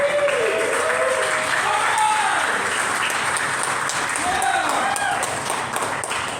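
Sustained applause from a comedy audience at a paranormal comedy podcast night, dense steady clapping filling the room for several seconds, with brief cheers and voices rising within the crowd before it tapers slightly at the end.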